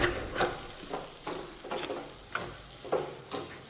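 Spices with coriander powder fry in a pan for a Rajasthani raw turmeric dish, a faint sizzle under rhythmic scraping strokes of a spoon stirring roughly every half second, close and quiet, with no talk.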